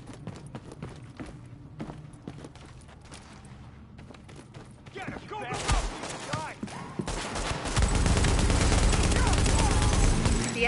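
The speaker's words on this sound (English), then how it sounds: "The escort party's taking heavy fire from the roof." Gunfire in the video game The Division starts with scattered shots and footsteps, then turns into dense, loud sustained bursts of automatic fire over game sounds, with voices mixed in.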